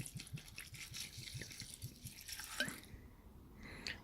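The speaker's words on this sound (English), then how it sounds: "Time to pour on the old voddy." Vodka poured over cocoa nibs during a Black Forest stout brew day trickles and drips in quick, irregular splashes, close and quiet, tapering off near the end.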